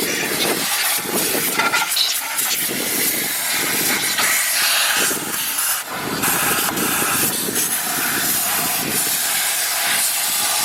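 Compressed air blasts into the intake manifold of a 2001 Ford Windstar, a loud close hissing rush in repeated bursts and pulses without speech.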